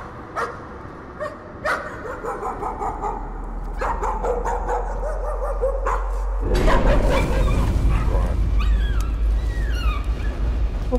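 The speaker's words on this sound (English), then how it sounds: "What fucking dog?" In the horror game Layers of Fear, a dog barks in a string of sharp, separate yelps, then breaks into high whimpering whines under a swelling low drone, all close and alone with no talk.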